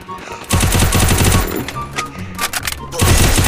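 Rapid video game gunfire from a UMP submachine gun and a shotgun in a Clash Squad match, loud bursts of fast repeated shots with a short pause, a player talking over the action.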